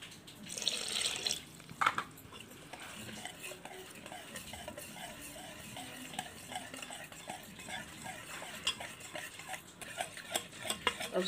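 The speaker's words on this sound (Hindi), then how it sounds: "थोड़ा सा और पानी डालेंगे, इसलिए कि सूजी खूब पानी पीती है।" Water poured into semolina (sooji) batter being prepared for appe, then steady wet stirring and scraping in a bowl, close and continuous, with a brief splashing pour near the start and no talk.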